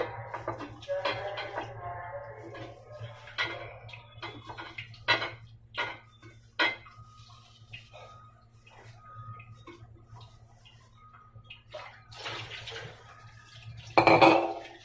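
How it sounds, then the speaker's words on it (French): Cut apple and lemon pieces clatter as they are dropped and mixed into bottles for a hot tea, with scattered knocks and clinks of varying loudness, a louder burst near the end, and a steady low hum underneath. "je vais devoir mélanger tous mes fruits dans ces bouteilles"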